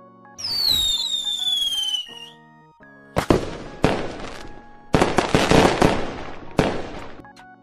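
Fireworks at a Japanese fireworks festival: a whistling rocket climbs, then a series of loud, sharp bursts and crackling explosions follow one another across several seconds, each booming blast trailing into sparkle.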